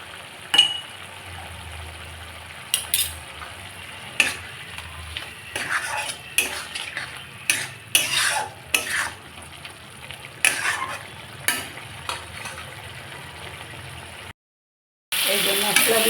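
A spoon stirs spices frying in oil for a koi fish curry, with repeated sharp scrapes and clinks against the pan over a low background sizzle, ending in a brief silence and a louder burst.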